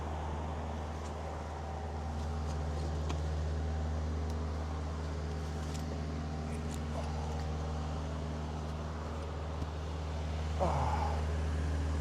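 A parked delivery truck unloading vegetables keeps its engine running, a continuous low rumble heard steadily from nearby throughout, with a few faint clicks and knocks on top.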